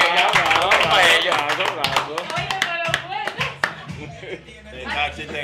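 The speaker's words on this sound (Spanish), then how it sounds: "Un aplauso para ella" Studio audience clapping during a Spanish-language comedy talk show, a loose burst of hand claps with voices and laughter mixed in, fading toward the end.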